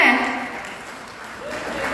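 Audience applause at a Lions Club silver jubilee event, a moderate, fairly thin wash of clapping holding steady throughout.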